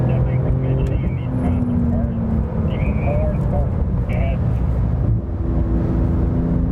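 Tires of a 2018 Porsche 911 with a 3.8-liter twin-turbo engine picking up and flinging gravel while driving, heard as a steady gritty rumble under the loud engine drone from inside the car, with a person talking over it.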